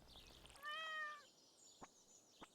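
A cat meows once in the video game Stardew Valley Expanded, a clear harmonic call lasting about half a second, followed by a couple of short soft clicks from the game.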